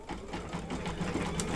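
An embroidery sewing machine running a back stitch around an in-the-hoop clover mug rug, a close, rapid and steady mechanical stitching chatter that continues without pause.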